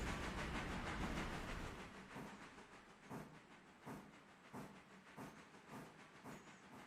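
A steam locomotive in the railroad simulation game Railroader starts from a stop, a long hiss of steam easing off into a series of slow, evenly spaced chuffs that gradually quicken, fairly faint.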